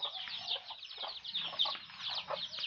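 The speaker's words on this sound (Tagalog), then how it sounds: "Na may mga sisiw na pakalat-kalat." Chickens and small chicks clucking and peeping together in a crowded coop, a busy continuous chatter of overlapping calls at close range.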